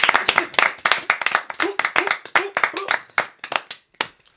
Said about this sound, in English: Round of applause for ourselves, please.